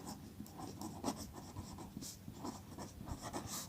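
A pen or marker writes an answer during a maths lecture, giving soft, faint, irregular scratching strokes in short bursts with small pauses, heard alone and close.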